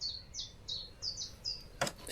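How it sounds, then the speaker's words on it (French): Birds singing outdoors in the countryside of Burgundy: a string of short, bright chirps repeats about every half second, moderately near, followed by a brief louder rustle near the end, with no talking. "on entend les oiseaux qui chantent"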